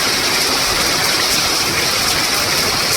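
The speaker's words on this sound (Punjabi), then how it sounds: "ਬਹੁਤ ਜ਼ਿਆਦਾ ਮੀਂਹ ਪੈ ਰਿਹਾ ਜੀ ਤੇਜ਼" Heavy rain pours down in a dense, loud, unbroken roar of close broadband hiss with no pauses and no voices.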